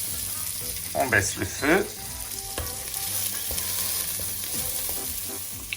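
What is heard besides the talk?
shallots frying in hot oil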